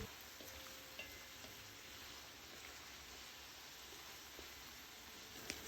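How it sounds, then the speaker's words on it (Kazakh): Onions fry in a pan for Kazakh kuyrdak while being stirred, giving a steady, quiet, close hiss with a few faint scraping clicks and no voices. "Пиязы сарғайғанша араластыра отырып қуырамыз"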